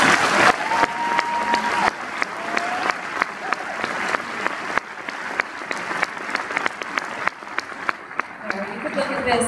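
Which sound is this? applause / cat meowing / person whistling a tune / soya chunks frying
applause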